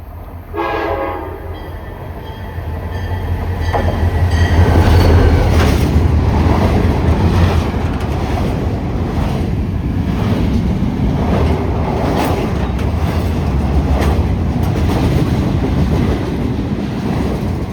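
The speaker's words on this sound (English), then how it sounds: "we got a freight train coming in on the near track" A freight train with a Conrail caboose passing on the near track, opening with a loud horn blast, then a long, steady rumble and clatter of rolling cars close by.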